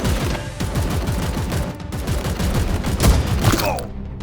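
Disrupt Shot fired in Warhammer 40,000 Chaos Gate Daemonhunters, a rapid close fusillade of loud cracking shots that rattles on for several seconds before cutting off.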